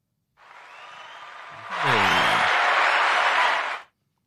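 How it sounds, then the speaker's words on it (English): A burst of crowd applause rises abruptly, dense clapping and cheering holding steady for about two seconds before cutting off cleanly, preceded by a brief electronic sweep. "Round of applause."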